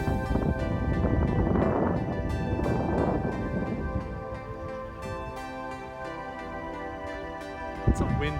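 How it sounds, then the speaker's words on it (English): Strong gusting wind buffets the microphone on a very windy day at the beach in Aberdeen, a loud rough roar that swells and eases, with a brief thump near the end. "It's a windy day, like very windy"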